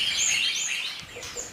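Small birds in a compact aviary chirp in quick, high, overlapping calls, close and fairly clear over a quiet background.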